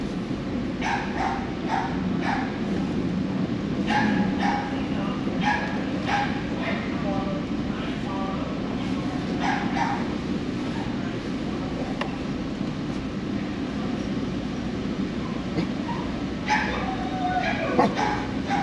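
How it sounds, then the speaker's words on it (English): A dog yips and whimpers in short repeated bursts inside a vehicle lining up to board a ferry, heard over a steady engine drone while a person talks quietly. "No bark, buddy."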